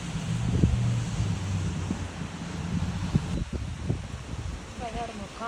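Strong wind gusts across open ground outdoors, a rough, rumbling roar against the microphone with rustling and faint voices underneath.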